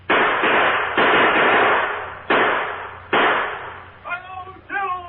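Gunfire effects in an old-time radio Western drama: a rapid series of four or five loud, sharp blasts, each trailing off into a rough echoing decay, followed by shouting voices.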